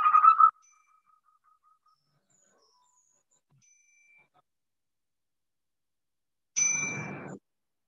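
A bell rings at the start of a yoga breathing session, its tone fading into silence, then a second strike several seconds later.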